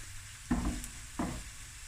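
Garlic dropped into onions frying in a pan, two brief sizzling bursts as it is stirred in, close and fairly quiet over a low steady hiss.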